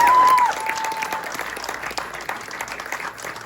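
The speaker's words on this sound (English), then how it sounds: "So please applaud them all equally." An indoor audience applauds at a school instructor introduction event, a dense, fairly loud patter of clapping that fades slightly after the first half-second and carries on steadily with no voices over it.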